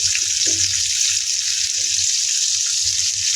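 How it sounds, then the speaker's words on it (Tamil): Chopped onions go into hot oil with fenugreek seeds for a village crab gravy, giving a steady close hiss and sizzle with faint low bubbling underneath. "இதுக்குள்ளே நான் இப்போ எடுத்து வச்சிருக்கிற வெங்காயத்தை சேர்த்துக்கொள்கிறேன்."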